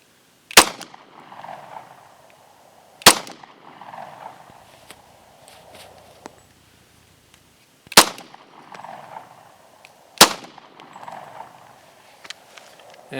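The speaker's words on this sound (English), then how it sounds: "Here's the XDM. This is 40 caliber. We'll give that one a shot as well." Four sharp, loud pistol shots from a Springfield XDM in 40 caliber crack out at irregular intervals, each followed by a short ringing tail, with quiet handling noise between them.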